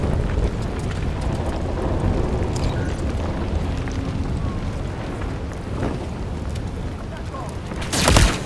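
Enemy gunfire rages in Call of Duty Modern Warfare 3 on Veteran difficulty, a dense, continuous roar of shots and booming battle noise throughout, swelling into a louder burst near the end.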